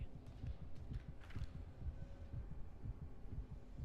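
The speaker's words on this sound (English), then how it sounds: "Hear his heartbeat." A steady, muffled heartbeat thumps in a low repeating double pulse in the video game Impossible Space, with a faint hum beneath it and no talking.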